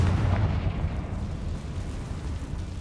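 A Confringo fire spell exploding in the video game Hogwarts Legacy, a loud, deep, rumbling boom that fades slowly over a few seconds with no voices.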